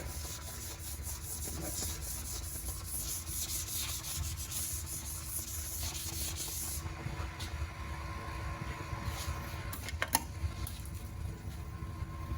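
Sandpaper of 3000 grit rubs steadily across original single-stage green metallic paint on a 1950s car, a continuous close scuffing hiss that lightens partway through, with a couple of faint knocks near the end.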